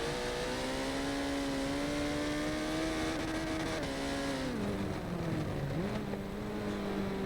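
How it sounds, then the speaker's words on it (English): An AMS race car in a sim racing game at Spa roars loud and close, its engine note holding high, then dropping and rising again as it shifts, with no voices. "You can hear the AMS car ripping up behind him."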